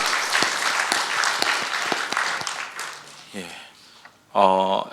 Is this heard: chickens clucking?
no